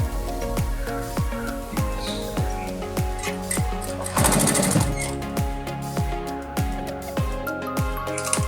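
A sewing machine stitches along a kurti with a steady run of evenly spaced thumps, about two per second, close and clear. A brief rougher whirring burst comes in partway through.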